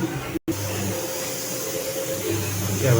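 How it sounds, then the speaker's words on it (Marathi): Mixer grinder whirring steadily while grinding chutney masala in a home kitchen, a loud continuous motor whine with one brief cut-off near the start, close and alone. "मस्त चटणी अजून आपण बारीक करून घेऊ"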